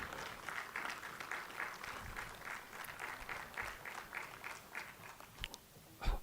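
An audience at a research institute's annual day awards ceremony applauds steadily, a dense continuous patter of clapping lasting throughout with no speech over it.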